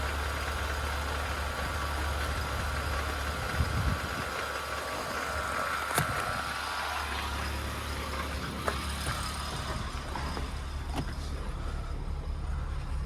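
The engine of a wheelchair access vehicle idles steadily, a continuous low rumble with a few faint knocks and clicks over it.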